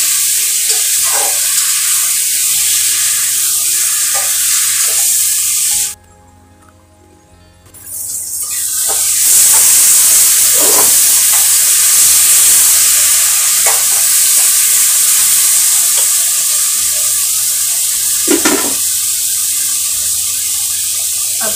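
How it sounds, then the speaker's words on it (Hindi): Manipuri fish curry with potatoes and tomatoes is stirred in a pan, giving a loud, steady sizzle broken by scraping strokes. The sizzle drops out briefly, then returns as strong as before. "बीच में चलाएंगे ताकि नीचे जल जाएंगे"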